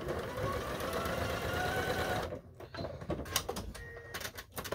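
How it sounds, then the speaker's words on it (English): A sewing machine back stitches through a quilt, its motor running in a steady, close buzz for about two seconds before stopping. Scattered clicks and handling noises follow. "I'm going to back stitch a hair since I cut that"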